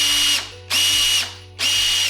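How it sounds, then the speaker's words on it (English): A power drill whirs in three short, even bursts separated by brief pauses, loud and close, while hanging a Christmas ornament garland on a wall. "I'm not actually allowed to use the drill."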